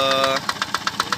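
A Yanmar TF65 6.5 HP diesel engine drives a 3-inch Ebara water pump at low RPM, chugging close by with a fast, even knocking rhythm.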